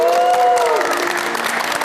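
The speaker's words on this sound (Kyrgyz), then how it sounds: "Өзүбүз үчүн кол чаап коелучу чында." Audience clapping at a Kyrgyz TV show, a loud burst of many hands that fades slightly toward the end, mixed with brief voices and a tonal sound at the start.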